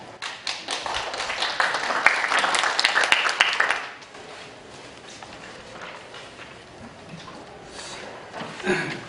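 Audience applause at a National Assembly symposium, a burst of brisk clapping for about four seconds that drops off to scattered faint claps and room noise.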